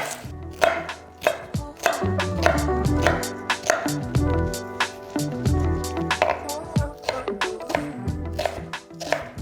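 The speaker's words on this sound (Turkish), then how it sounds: "Şimdi soğanımızı doğrayalım." Rapid, close knife chopping of onion on a board for lentil soup, many quick uneven strokes in bursts with brief pauses, continuing steadily.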